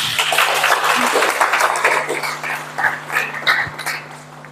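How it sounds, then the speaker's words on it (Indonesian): Applause from an audience at a Quran memorization award ceremony fills the room, a steady crackling patter of many hands with a low electrical hum beneath, lasting throughout. "Iya, tepuk tangan."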